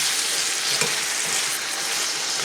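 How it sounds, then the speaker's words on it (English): Fried apples with sugar are stirred in a hot pan, making a close, continuous sizzle with soft scraping, steady across the short stretch. "And I'm going to stir this around a little bit"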